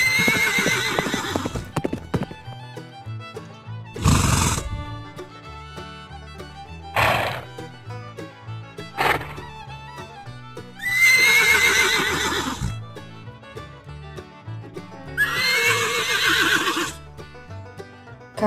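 Horses neigh in several loud, shrill whinnies spaced across the stretch, with hooves clip-clopping in between, nearby and clear with no talking.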